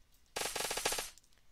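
The Valentine gun fires in the video game Unturned as a rapid burst of about eight sharp, evenly spaced shots lasting under a second, loud and close against a quiet background.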